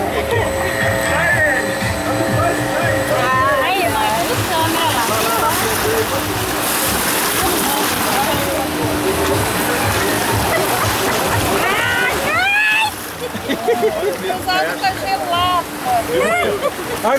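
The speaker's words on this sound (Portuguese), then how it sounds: "onde nós estamos aqui nessa galera aqui na água, descendo a cachoeira" A group of people splash through the water as they go down a waterfall, with loud, continuous rushing and churning throughout and voices calling and talking over the roar.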